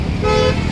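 A car horn honks in one sustained toot amid heavy midday traffic congestion, loud and close over a steady background rumble of vehicles.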